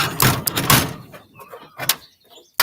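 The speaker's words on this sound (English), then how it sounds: "I guess that door don't want to open" A stuck door is forced open: several close, loud thumps and rattling knocks come in quick bursts, then quieter scraping and a final sharp knock.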